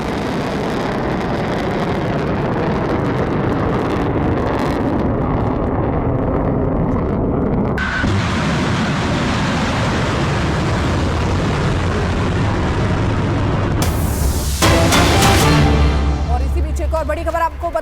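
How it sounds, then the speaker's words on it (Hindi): An Iranian missile launch and explosion: a continuous heavy roaring rumble that shifts abruptly partway through, then swells into a louder, harsher burst near the end. "अब उसकी उस धमाके की आवाज सुनिए, उस मिसाइल का उड़ना सुनिए।"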